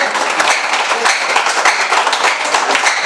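A crowd of children claps loudly together at a welfare society service event in Warasiguda, a dense, steady patter of many hands kept up throughout without a pause.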